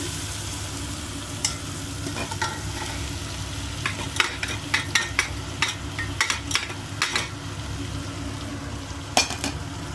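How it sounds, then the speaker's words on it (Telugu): Flattened rice (poha) is stirred with cooked tomato and salt in a frying pan: a steady close sizzle with scattered sharp clicks and scrapes of the spoon against the pan, growing busier midway, with no voices. "అటుకులంతా వేసేసాం కదండి, కలిపేసుకున్నాం"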